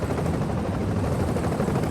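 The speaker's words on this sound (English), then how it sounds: "the helicopter swayed and yawed as it descended to the ground" Helicopter descending to land, a loud continuous rotor and engine roar with dense throbbing texture filling the whole stretch, no voices.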